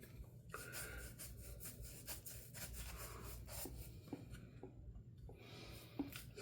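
Concentrated shave soap worked in by hand on wet skin, a soft continuous rubbing and scrubbing close up, with a few small clicks near the end and no talking.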